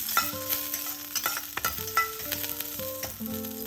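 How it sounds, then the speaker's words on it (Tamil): Garlic fries in hot oil with mustard seeds and curry leaves, a close, steady sizzle broken by scraping stirs, with soft background music running underneath. "அதையும் போட்டு நல்லா ஃப்ரை பண்ணிடலாம்."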